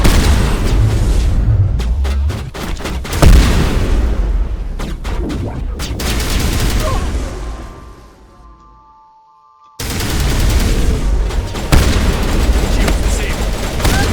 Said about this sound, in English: Let's go to my shotgun.